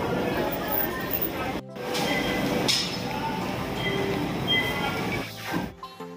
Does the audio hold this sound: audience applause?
no